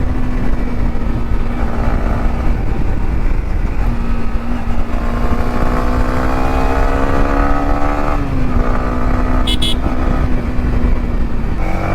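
Motorcycle engines on a group ride, including KTM 390s and a Yamaha R15, drone loudly and continuously up close, with the pitch of the note rising and falling as riders change speed.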